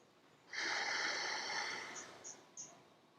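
A single deep yoga inhale, close and steady, drawn through the nose as a breathy hiss for about two seconds, then a few small sniffs trailing off into quiet.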